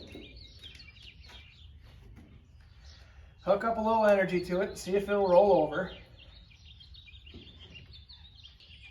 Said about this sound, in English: it sure is encouraging to come outside and hear birds chirping